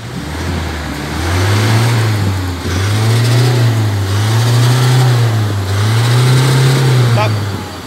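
A 1997 Toyota SW4 engine revs up and down in several strong, drawn-out surges, climbing and falling back again and again, loud and close with no talk over it.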